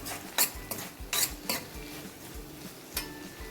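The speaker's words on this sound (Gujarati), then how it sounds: "અને મિક્સરને સરસ રીતે હલાવી લેશું." A spoon stirs a vegetable masala Maggie mixture in a pan, with sharp metallic scrapes and clinks at irregular intervals over a soft, steady sizzle, close by and without voices.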